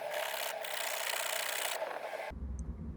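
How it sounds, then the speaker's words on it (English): Metal bicycle part being filed by hand, close rasping strokes with a brief pause, ending in a dull low rumble. "got the file out and sanded it down a little bit, filed it down"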